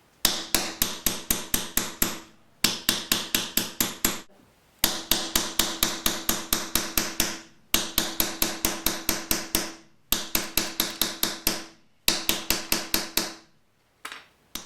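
Steel punch tapped rapidly against wood to frost the background of a carved house number, steady rhythmic bursts of close, crisp taps separated by short pauses, with no talking.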